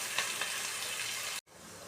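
Onions frying in a pan for a fish curry, a faint, even sizzle with a couple of small crackles, briefly cut off near the end before resuming.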